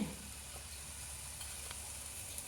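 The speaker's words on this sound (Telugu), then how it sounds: "అందుకు నేను కూడా అలాగే వేయిస్తున్నాను" Curry fries in a pan with a low, even sizzle and a few faint scrapes, a quiet, steady background hiss with no talking.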